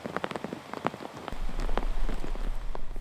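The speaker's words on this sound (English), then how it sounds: "The rain continues to come and go on Colorado's Front Range" Rain on Colorado's Front Range, a dense patter of drops striking a surface, starting as scattered taps and then thickening into a steady, close hiss.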